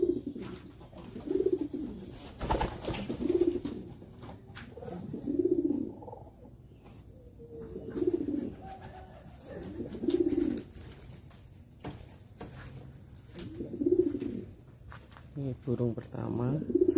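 Pigeons coo in repeated low, throaty phrases roughly every two seconds, close and fairly quiet, with occasional handling noises and faint background talk.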